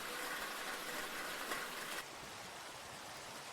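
Rain falls in Minecraft with a sound-enhancing mod, heard as a steady, soft, even hiss with no distinct drops. The hiss drops slightly in level partway through.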